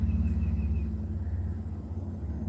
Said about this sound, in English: instead we're listening to trucks and boats and motorcycles